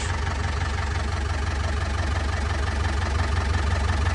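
An old tractor engine, long abandoned in the woods, idles just after starting with a steady, loud, rough low chugging that holds evenly throughout.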